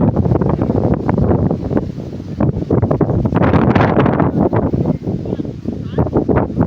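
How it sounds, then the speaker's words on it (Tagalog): Strong wind buffets the microphone at a beach swimming area, roaring in loud, uneven gusts that swell and drop, with voices faintly underneath. "Lakas ng hangin."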